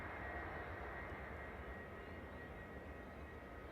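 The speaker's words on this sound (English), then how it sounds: "I can hear an APU running." An aircraft auxiliary power unit runs at Manchester Airport, a steady, faint, distant broadband roar with a constant whine that holds unchanged throughout.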